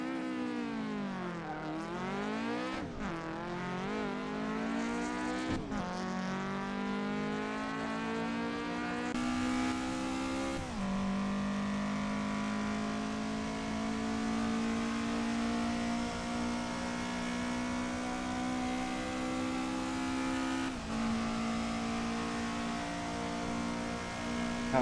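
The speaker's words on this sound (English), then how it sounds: "This car sounds badass." A race car engine revs hard and continuously, pitch sweeping up and down through gear changes, loud and close with no talking.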